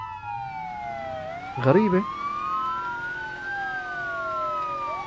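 A police car siren in the driving game BeamNG.drive wails continuously with steady rising and falling tones, while someone speaks briefly over it partway through.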